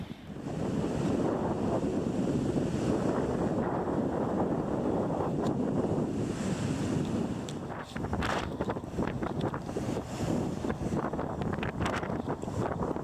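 Steady wind buffets and surf crashes against a rocky ocean coast, a continuous roar of waves with gusty rumble, moderately loud and with no voices.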